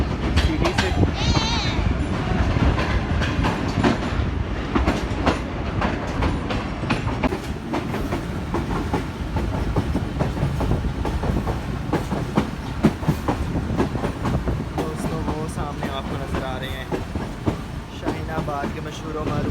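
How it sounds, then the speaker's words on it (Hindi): Millat Express pulling slowly out of Sargodha City, a steady rolling rumble of wheels and carriages with rhythmic clickety-clack and occasional metallic squeals, loud and continuous throughout, with voices faintly present. "अभी ट्रेन स्लोली निकल रही है सरगोदा सिटी से।"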